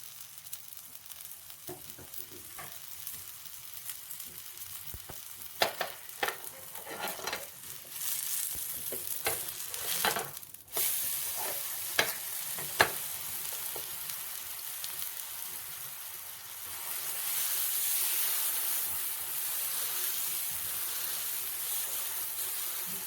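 Bread dipped in a yogurt batter toasts in ghee in a pan, with soft sizzling and scattered scraping and stirring clicks from a utensil, followed by a louder, steadier sizzle toward the end.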